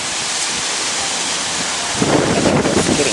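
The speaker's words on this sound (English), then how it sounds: "It's getting super windy out here." Strong outdoor wind at a hilltop garden roars as continuous broadband rumble and buffeting against the microphone, swelling louder in the last second; no talk is heard.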